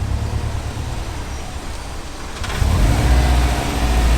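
A Subaru WRX engine idles with a steady low rumble, then steps up to a louder, fuller revving drone partway through, close by with no talk.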